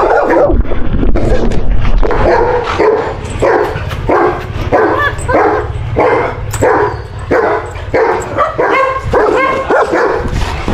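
Several dogs on a coffee plantation in Kodagu bark in repeated loud, close bursts, with yips and whimpers mixed in against a steady outdoor background.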